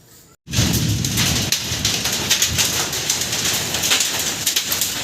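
Heavy rain pouring down during a thunderstorm, a loud continuous hiss that starts abruptly and stays dense, with faint rumbles and scattered spatters and no voices.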